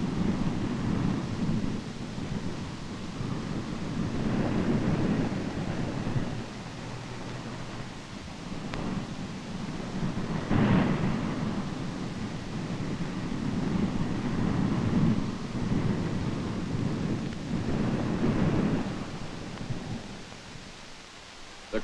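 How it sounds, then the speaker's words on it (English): Howling blizzard winds and heavy seas during a typical winter storm on the northern Sea of Japan, with a continuous loud roar of wind and surf and recurring gusty surges, no voices present. "the seas get higher and higher, and the storm becomes a veritable blizzard"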